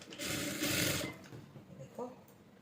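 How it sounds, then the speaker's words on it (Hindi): A sewing machine stitches the lower armhole seam of a floral gown, a loud steady whirring run that eases off, with a soft mechanical clack afterward, up close. "इसको ऐसे पकड़ते हुए यहाँ पे हम सिलाई लगा देंगे"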